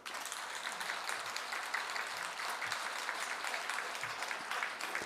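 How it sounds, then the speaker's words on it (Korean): A congregation at a year-end service in a Won Buddhist temple claps together in sustained, even applause, a dense crackle of many hands that continues steadily throughout with no talking. "격려의 박수 한번 쳐주시죠"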